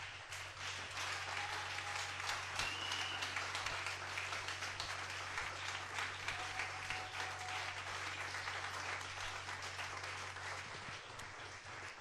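A church congregation applauds and cheers for the Lord Jesus during a French-language worship service, steady dense clapping sustained for the whole stretch at an even, fairly loud level over a low hum.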